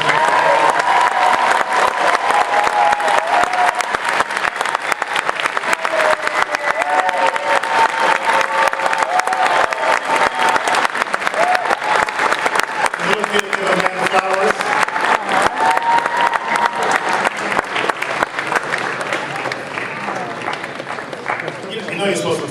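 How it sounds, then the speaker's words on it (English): A school spring concert audience gives sustained, even applause for the music teacher Mr. Alvarez, a loud crowd clapping that carries on for over twenty seconds with a little cheering and voices mixed in. "Let's give him a round of applause."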